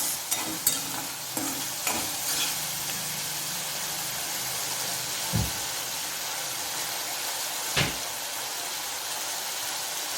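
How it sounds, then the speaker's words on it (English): A chilli parotta being stirred in a pan with tomato sauce, a continuous loud sizzle with a few scraping knocks of the spatula at the start and two duller clunks later on. "Give it a good mix."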